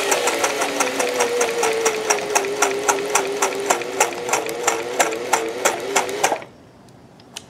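A sewing machine stitches steadily with a Schmetz universal triple needle and multicolored threads, a close, even mechanical whir with regular needle ticks, running for several seconds before stopping abruptly into near quiet.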